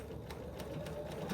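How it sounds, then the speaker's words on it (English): Sewing machine running steadily with white thread as it stitches closed a small opening on a quilted Halloween witch hat, a continuous close whirring hum with faint periodic needle ticks and no voices. "I am going to just stitch down this little part here"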